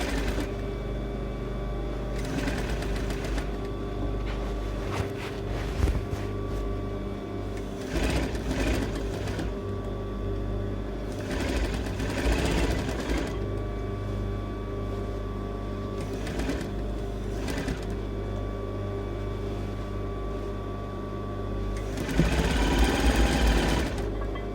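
A sewing machine stitches the armhole lining of a sleeveless dress, its steady motor whir running in bursts with short pauses for back tacking, close and clear with no talking.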